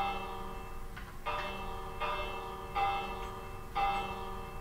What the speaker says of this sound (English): so this is the bell